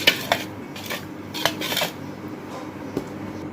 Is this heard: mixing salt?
yes